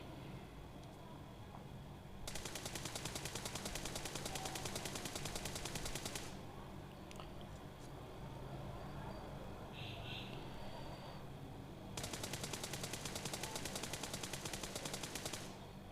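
Suppressed assault rifle fire in a first-person shooter video game, heard in two long, rapid automatic bursts separated by a quieter stretch with scattered lighter shots.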